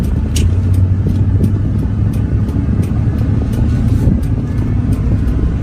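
A donated auction car idles and rolls slowly, its low engine drone and road rumble running steadily with faint clicks and no clear voices as it is brought to a stop and put into first gear.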